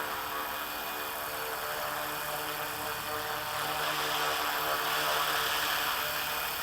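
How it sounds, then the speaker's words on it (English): An FW450 RC helicopter hovers nearby, its rotor and motor giving a steady, even buzzing whir that swells slightly louder toward the end. "Look at that copter."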